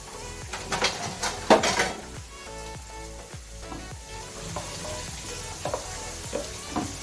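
Onions frying in oil for chana pulao, a close crackling sizzle mixed with repeated clinks and scrapes of a utensil stirring in the pot.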